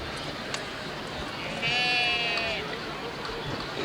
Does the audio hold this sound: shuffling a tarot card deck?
no